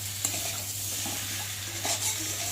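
Potatoes with ginger and garlic fry in a pan, a steady soft sizzle broken by a few close scraping stirs, with no voices.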